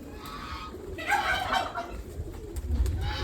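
Pigeons coo softly nearby, a few low throaty calls over a steady background hum.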